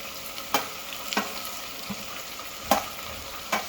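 Chopped vegetables, potatoes, capsicum, carrot, cabbage and tomato, fry in a pan for masala khichdi, a steady close sizzle broken by a few sharp spatula clicks against the pan.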